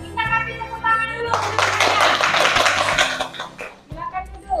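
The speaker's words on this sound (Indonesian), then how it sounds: "Kita kasih tepuk tangan dulu." A group bursts into applause for a couple of seconds, with voices talking before and after the clapping.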